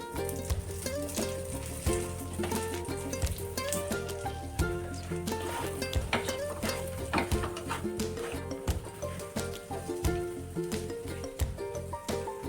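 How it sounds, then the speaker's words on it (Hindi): Dry fruits roasting in ghee in a kadhai: a steady close sizzle with frequent scraping and clicking taps from stirring, continuous throughout and with no talking. "ड्राई फ्रूट को भी हमें 2 से 3 मिनट तक भून लेना है"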